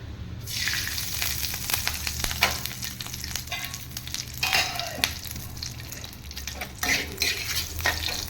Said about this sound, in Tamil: இப்போ நம்ம முந்திரியை வறுத்து வச்சுக்கலாம்